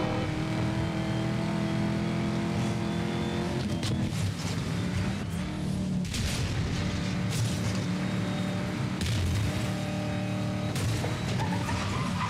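Dodge Challenger in Need for Speed Most Wanted 2012 roaring under hard acceleration, with tire skids and squeals cutting in repeatedly during a police chase, loud and continuous throughout.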